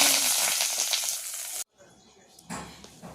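Mustard seeds and curry leaves sizzling in hot tempering oil for a potato dish, a loud bright crackling fry that cuts off abruptly, falls quiet, then resumes more softly.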